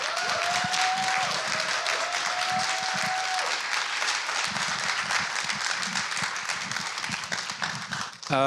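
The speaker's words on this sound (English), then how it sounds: "round of applause for our comrade" An audience claps steadily for several seconds at a teach-in and panel discussion, a crowd's applause filling the space while a faint voice or tone sounds briefly near the start.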